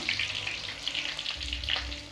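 Garlic sizzles and crackles in hot oil while cooking sundakkai thokku, a steady close frying hiss with light stirring.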